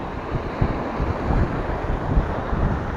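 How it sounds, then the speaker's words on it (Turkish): Strong wind on the coast near Mersin buffets the microphone with a low, gusty rumble that swells and falls throughout, with no voices. "Bayağı bir rüzgar çıkmaya başladı"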